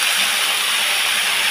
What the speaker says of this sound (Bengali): এইবার আমি এর মধ্যেই শাকগুলো ঢেলে দিলাম, ঢেলে আমি এইবার শাকটাকে নাড়ব।